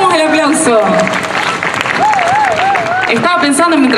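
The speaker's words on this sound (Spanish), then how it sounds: "Renovamos el aplauso." An audience applauds loudly and continuously at a live music performance, dense clapping close by, with a voice and some sung or spoken tones riding over it.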